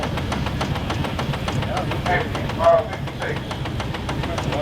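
A Rumely stationary steam engine runs at a steady governed speed, its even rhythmic chuffing and mechanical clatter continuous throughout, with someone talking over it.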